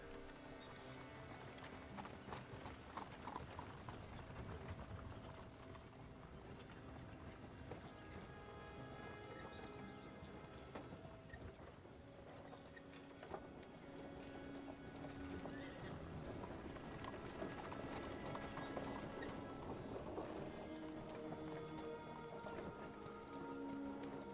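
A horse's hooves clip-clop in a steady walking rhythm while riding in Kingdom Come: Deliverance II, soft and continuous beneath game ambience that sounds like rain.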